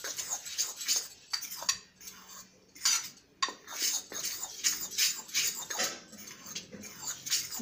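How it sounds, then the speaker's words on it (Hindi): Dry cake ingredients, including milk powder, are stirred in a bowl for a dorayaki-style cake, making steady scraping and clinking of a utensil against the bowl, close and fairly quiet, in a quick repeated rhythm without talk. "इन सारे ड्राई इंग्रेडिएंट्स को इस तरह से हम करके अच्छे से मिक्स कर लेंगे।"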